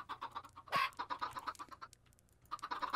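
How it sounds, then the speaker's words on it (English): Chickens clucking on a chicken farm in a Minecraft-style video game, a steady rapid stream of soft clucks that pauses briefly, then resumes. "I got a chicken farm. Congrats. That's going to be a lot of noises"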